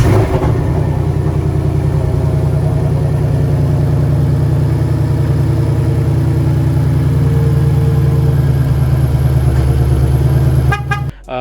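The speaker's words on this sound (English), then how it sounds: "I'll show you a clip of it starting up because the thing started up just fine" A Whipple-supercharged Ford Mustang engine running at a loud, steady idle with a deep rumble and a constant whine layered on top. It stays close and unbroken for about eleven seconds, then cuts off abruptly near the end.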